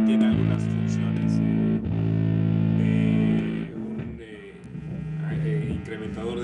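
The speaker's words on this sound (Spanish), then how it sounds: "Y este es un Big Muff, que también lo que hace es meter una distorsión ahí" An electric guitar played through a Big Muff distortion pedal rings out in thick, sustained fuzzy chords, loud and close, with a brief break and a lower, thinner passage toward the end.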